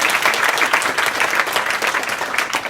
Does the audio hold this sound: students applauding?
yes